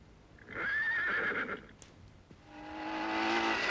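A horse whinnies loudly and close by, then a steady engine hum rises and carries on to the end.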